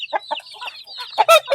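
Native country chickens on a farm in the hot month of May give a quick run of close, loud clucks and short squawks, with a sharper cry at the end.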